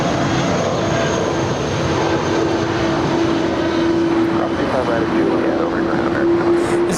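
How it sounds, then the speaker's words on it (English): A 22-year-old JetBlue Airbus A320 departing Los Angeles LAX, a loud sustained jet roar with a steady whining engine tone throughout, close and unbroken for several seconds. "is JetBlue 1080 departing to Las Vegas. It's a 22-year-old A320"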